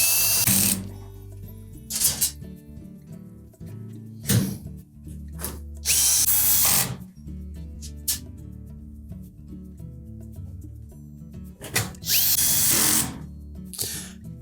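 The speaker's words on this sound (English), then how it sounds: "And then we'll just continue to put the rest of those screws in." A power drill drives screws into the top corners of a Whirlpool range during an insulation repair, sounding in several loud, short whirring bursts separated by quieter gaps with clanking and handling sounds.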